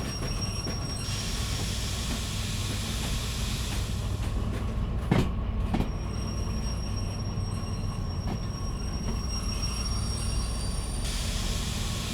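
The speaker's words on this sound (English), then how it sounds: "We're just using the independent brake." A train in the Derail Valley railway simulation game rolls steadily along the track under the independent brake, with a continuous low rumble, faint wheel squeal and occasional clicks from the rails, no voices.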